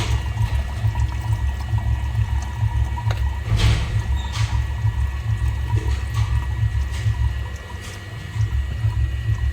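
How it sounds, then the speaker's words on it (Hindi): Water is slowly poured off silver powder settled at the bottom of a vessel, making a steady, close trickling and rushing flow that runs through the whole stretch without any speech. "ये पानी बहुत आराम से निकालना है"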